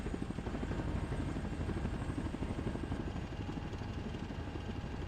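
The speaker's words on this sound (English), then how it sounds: "friendly Chinooks are arriving into engagement area Despair area, over" Chinook helicopters arriving in the Steel Beasts Pro tank simulator, a steady rotor thump and engine drone filling the scene at moderate level, continuous throughout with no talk.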